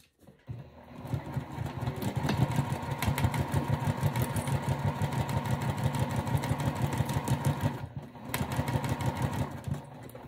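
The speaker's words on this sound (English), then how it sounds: "I'm going to sew this at 1/8 of an inch seam allowance" A sewing machine runs steadily at an even, rapid rhythm while stitching a vinyl zipper pouch at a narrow seam, with a brief pause near the end before it carries on.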